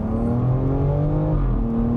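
A 2020 BMW X3M Competition idles with a deep, steady exhaust burble, a loud low rumble close by with no voices.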